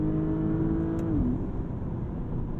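A 2021 Porsche Panamera engine revs hard toward its roughly 6,800 rpm redline, the tone climbing steadily before a quick paddle shift drops the pitch, loud and close with no talking.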